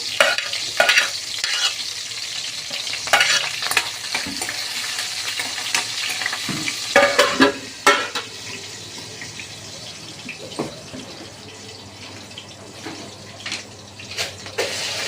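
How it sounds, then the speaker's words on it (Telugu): Onions and green chillies fry in hot oil in a pan, a steady sizzle broken by frequent clattering stirs and scrapes, close and fairly loud. "ఆయిల్ అయితే కొంచెం హీట్ అయిన తర్వాత ఆనియన్స్ అయితే వేసుకోవాలి తర్వాత పచ్చిమిర్చి"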